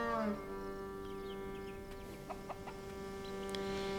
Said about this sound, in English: I guess I could go shooting at some birds